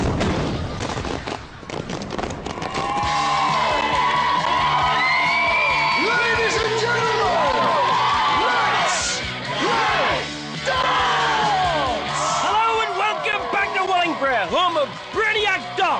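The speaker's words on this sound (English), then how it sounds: "The crowd are gone wild in anticipation of the latest clash between world-class darts legend Bobby George and the dim-witted Brainiac." A darts match crowd goes wild, loud, dense yelling, whooping and bellowing from many people that swells and stays near-continuous, with individual shouts rising out of the roar.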